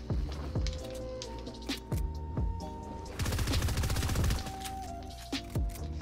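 Rapid Fire SMG shots in Fortnite crack in spaced single hits, then a dense rattling burst runs for over a second before spaced shots resume, all fairly faint.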